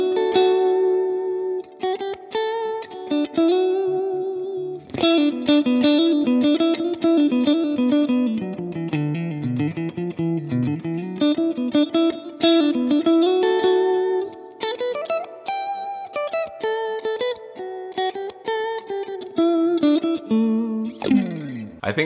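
An electric guitar plays through a Vox amp with tremolo and reverb, loud plucked notes and chords pulsing and ringing with a wavering, shimmering tail over about twenty seconds, with no talking.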